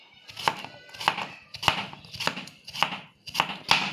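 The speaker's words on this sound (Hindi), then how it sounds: "अब मैं खीरे की कटिंग कर रही हूँ और खीरे की कटिंग करके इसको भी इसी तरीके से राउंड में काट रही हूँ" Cucumber sliced into rounds on a cutting board for a vinegar vegetable pickle, with seven crisp, evenly spaced knife chops at a steady rhythm, close and clear.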